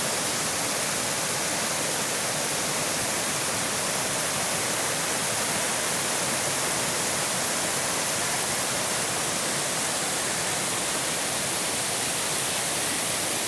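A constant roar of rushing water, loud and unbroken, like a powerful waterfall heard up close with no other sounds, at Proxy Falls in Oregon.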